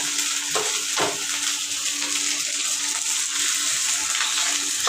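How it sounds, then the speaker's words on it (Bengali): Khichuri poured into a hot ginger tempering, a loud, steady close sizzle and frying hiss with faint stirring clinks over the whole stretch. "ফোড়নটা এবার আমি খিচুড়িটা ঢেলে দেবো"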